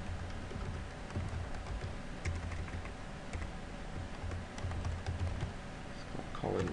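Quiet, steady clicking of a computer keyboard as a name is typed, a run of small key taps over a low background hum, with no talking.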